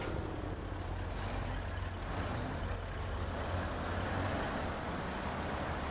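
A heavy truck engine in the video game Snowrunner drones in a continuous low rumble, steady and moderately loud throughout with no voices.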